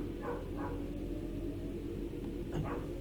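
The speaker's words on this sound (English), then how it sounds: "And that dog you can hear is not in the game." A neighbour's dog barks outside, a few faint, distant barks heard through the indoor background of a Train Sim World commuter train game.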